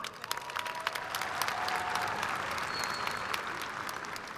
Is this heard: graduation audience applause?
yes